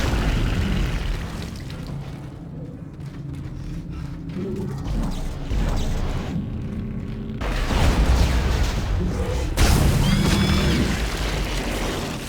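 A deep boom from an explosion in the sci-fi horror game Dead Space 2 rumbles out, followed by mechanical clanks and a second loud blast with low rolling rumble, no voices.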